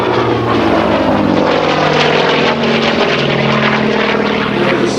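A Hawker Sea Fury propeller fighter drones loudly overhead during an air display, its engine holding a steady, throbbing roar for several seconds.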